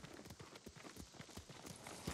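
Horse hooves from the game Ghost of Tsushima clip-clop in a quick, steady rhythm of distinct close thuds, fairly faint overall.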